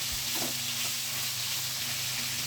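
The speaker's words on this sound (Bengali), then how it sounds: "এখানে তেল কড়াইয়ে দিয়ে গরম হয়ে গেলে মাছগুলো দিয়ে ভালো করে ভেজে নেবে।" Shol fish frying in hot oil in a kadai for a Bengali fish curry, a steady broadband sizzle with faint hiss running throughout, close and alone, with no voices.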